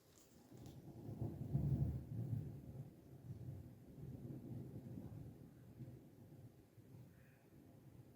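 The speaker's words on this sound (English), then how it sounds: "a little bit of thunder." Low, distant thunder rolls on for several seconds, swelling early and then fading into a soft, lingering rumble.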